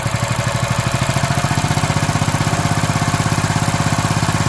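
A Duromax 7HP small engine with a VM22 carburetor runs loud and close at idle, a steady rapid putter with an even pulsing rhythm and no voices.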